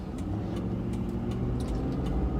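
A 2004 Ford F-150 pickup on the move, a steady low engine drone and road rumble heard from inside the cab, continuous and fairly loud with a few faint clicks and rattles over the top.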